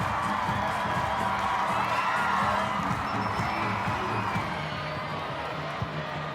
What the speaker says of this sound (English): Sam Kerr sends the crowd into rapture